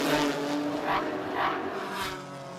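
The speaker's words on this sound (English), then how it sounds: "Great to watch, but also listen to the cars blasting under the Fox Factory Bridge." Pirelli GT4 America race cars at Road Atlanta roaring past under a trackside bridge, engine noise swelling and fading in a few quick passes, loud and continuous with no talk.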